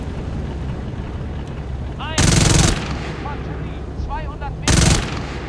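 Nebelwerfer rocket artillery fires in the Tank Squad tank game, two loud bursts of launches about two seconds apart, each followed by whining rocket sounds over rumbling battle noise.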